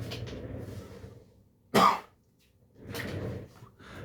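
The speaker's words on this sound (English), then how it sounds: "Sorry, I had to cough there for a sec." A single sharp cough bursts out between stretches of muffled, low mumbling, loud and close against an otherwise quiet background.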